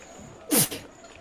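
One sharp, loud sneeze bursts out at close range during a Dungeons & Dragons tabletop session, preceded and followed by quiet room tone.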